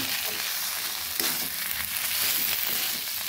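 Banana flower filling for chop cutlets sizzles and fries in a pan while garam masala powder is stirred in, a steady close crackling hiss with light scraping, and no voices.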